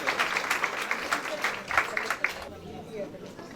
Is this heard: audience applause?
yes